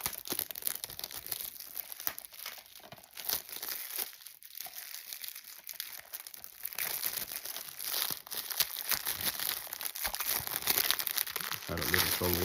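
Plastic shrink wrap being torn and peeled off a Resident Evil 4 Remake PS4 game case during an unboxing, a long close stretch of crackling, crinkling and tearing with brief pauses.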